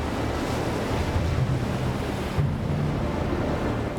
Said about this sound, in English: he has an angry, boiling ocean snapping at his heels